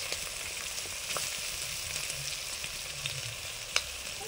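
Chicken fries in a pan with onion, capsicum, garlic, ginger and green chilli, a steady close sizzle with a few soft stirring clicks and one brief sharp tick near the end, no voices.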